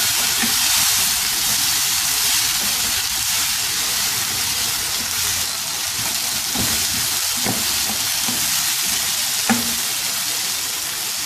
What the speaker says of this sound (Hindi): ऐसे ही हिलाते हुए इसको 1-2 मिनट लिए पकाएंगे।